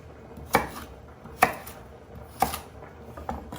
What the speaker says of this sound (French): on va les couper en petits morceaux comme ça